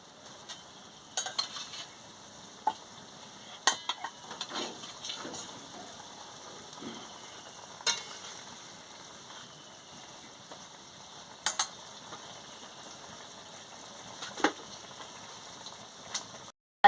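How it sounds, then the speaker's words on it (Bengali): A pan of magur catfish curry with a little sugar added simmers quietly, a soft steady bubbling with scattered sharp pops and ticks over a faint hiss. "দেখুন কেমন ফুটছে"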